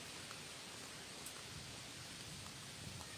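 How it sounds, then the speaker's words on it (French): Steady rain hisses continuously during a thunderstorm in Isan, Thailand, a dense even wash of noise with a faint low rumble underneath, no voices. "Ça tonne, ça tonne, ça tonne."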